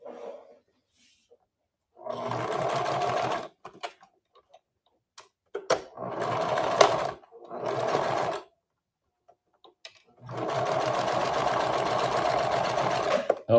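A sewing machine sews a quarter-inch seam in several runs of a few seconds each, with a clear, close whirring hum and short quiet gaps where the fabric is repositioned.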